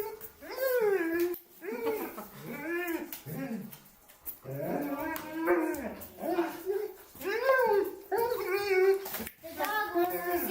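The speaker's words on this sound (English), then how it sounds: "The dog he likes to speak." A dog whines and yips in a run of rising and falling vocal bursts with short pauses between them, sounding close and fairly loud indoors.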